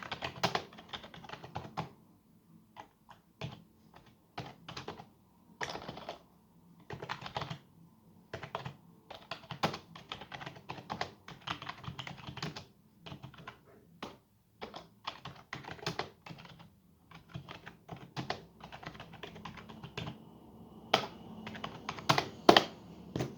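Bursts of typing on an RGB gaming keyboard, quick irregular key clicks with short pauses between runs, close and fairly quiet.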